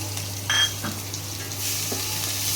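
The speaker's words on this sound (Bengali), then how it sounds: "পেঁয়াজটা অল্প অল্প ভাজা হোক।" Chopped onions sizzling in hot oil in a pan for a home-style chicken kadai, a steady loud fry with brief stirring scrapes, no voices.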